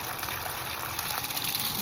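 An electric water pump boosting weak household mains supply drives a strong, steady gush of water that rushes continuously and loudly, close by.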